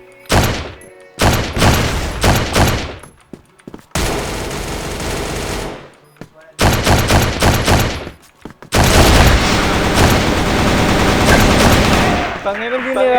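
Bursts of heavy .50 caliber machine gun fire in a video game clan match, several long volleys separated by short pauses, loud and close.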